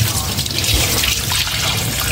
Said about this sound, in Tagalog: Hugasan ko naman itong pork.